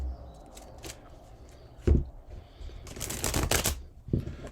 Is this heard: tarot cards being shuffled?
yes